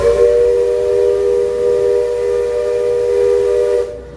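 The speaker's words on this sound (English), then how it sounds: "The horn, the whistle's getting louder and louder." The steam whistle of the Magic Kingdom riverboat at Walt Disney World blows one long, loud, steady tone for about four seconds, then cuts off sharply.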